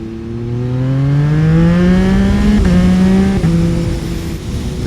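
A motorcycle accelerates hard in second gear with the front wheel lifting. The engine climbs loudly and steadily in pitch, shifts, then keeps pulling, close and alone with no talk.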